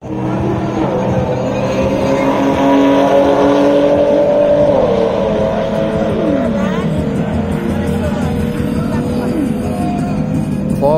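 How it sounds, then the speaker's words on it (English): A drag racing car at a Florida strip does a small burnout, its engine revving hard with tire squeal and a falling pitch sweep, loud and continuous over crowd noise and an announcer's voice. "Small burnout."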